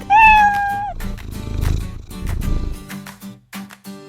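A single clear, drawn-out cat meow opens the clip, followed by muffled rustling and soft, indistinct noises.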